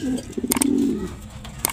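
Soft, low racing pigeon coos rising and falling close by at a derby in Santiago, Isabela, with a few short clicks and rustles around them.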